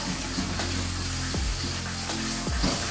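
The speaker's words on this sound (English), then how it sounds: "You add your beaten eggs. That's 2 eggs. Make sure you mix that." Two beaten eggs sizzle loudly in a hot wok for pad thai while they are stirred and mixed. A close, steady frying hiss carries a few scraping strokes of the utensil against the pan.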